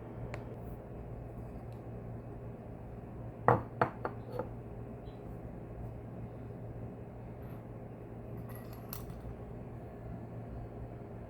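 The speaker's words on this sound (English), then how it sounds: "I'm going to get my ocean glass to show you guys." Pieces of sea glass clink together as they are handled, a quick cluster of four or five bright glassy taps, with a couple of fainter clinks later over a quiet room hum.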